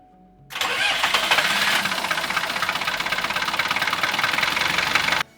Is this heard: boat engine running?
yes